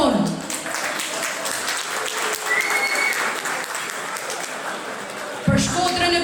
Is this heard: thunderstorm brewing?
no